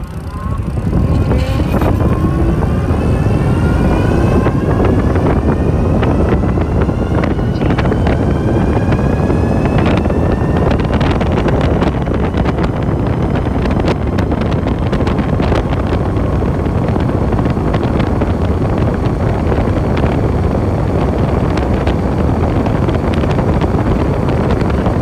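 A Super73 RX Mojave e-bike on its stock motor with a 72-volt battery accelerates, a rising electric whine climbing early on, buried under loud, continuous wind roar across the microphone.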